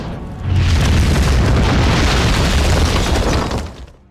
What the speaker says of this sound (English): Ulrich is presumed dead in the explosion